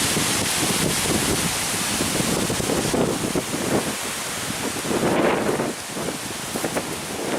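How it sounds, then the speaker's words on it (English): Wind rushes continuously on a hiking trail in the Porcupine Mountains, Michigan, a broad, steady roar buffeting the microphone with slight surges, and no voices. "it's a very windy day today"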